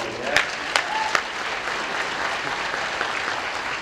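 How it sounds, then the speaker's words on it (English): An audience claps steadily during a keynote talk, with dense, even applause throughout and a few sharper individual claps standing out near the start. "Give him a round of applause"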